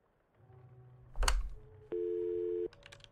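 A telephone call tone rings in the indie horror video game Cherophobia, a single steady electronic tone held for under a second after a brief clatter, close and clear against quiet background.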